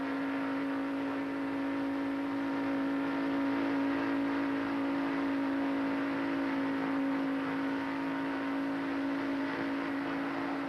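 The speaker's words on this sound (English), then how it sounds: "How do they race? From inside Jeff Gordon's car." In-car sound from Jeff Gordon's stock car racing in the 1994 Daytona 500: a loud, steady engine drone with a strong sustained tone held for the whole stretch, and no voices over it.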